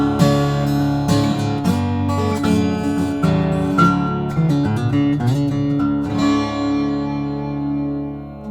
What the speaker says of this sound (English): So if I set this to parlor size guitar, it'll sound like this